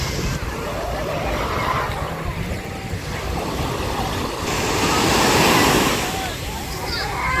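Calm sea waves washing onto a beach at a resort, a steady broadband wash of surf rising slightly midway, with voices in the background.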